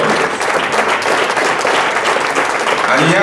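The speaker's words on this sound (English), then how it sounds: "Brothers and sisters, as you're clapping for showing your love for our father" Audience applause at a Pan-African Movement summit in Atlanta, a dense, steady wash of many hands clapping close and loud throughout, with no pause.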